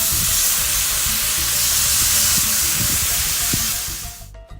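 Fajita meat sizzles loudly and steadily in a hot greased pan just after being flipped, a dense hiss with crackling pops throughout, cutting off abruptly at the end.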